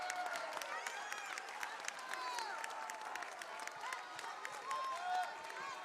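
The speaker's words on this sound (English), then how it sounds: "And the crowd enjoying it" Gymnasium crowd at a high school basketball game claps and cheers in a faint, distant, reverberant wash, with sneaker squeaks and scattered shouts cutting through.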